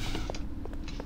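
A door opens in Half-Life 2 with a run of creaking, mechanical clunks and squeaks, several short bursts close together over a low steady hum.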